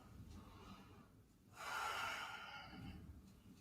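A single long, audible exhale during a morning movement and breathing exercise swells up close halfway through and fades gently, with soft breath noise on either side.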